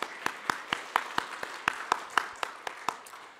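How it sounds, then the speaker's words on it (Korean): A church congregation at a Korean Sunday worship service claps in praise, with about fifteen sharp, evenly spaced claps in a steady rhythm that sound fairly close and roomy. "그러니까 하나님께 박수로 영광 올려드리시겠습니다."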